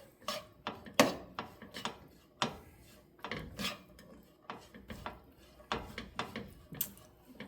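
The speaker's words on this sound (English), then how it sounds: "So 2 tablespoons of the sesame oil. We're going to give that a stir." A utensil stirs sesame oil in a pan, producing repeated scraping and clinking strokes in an irregular rhythm, close and fairly quiet.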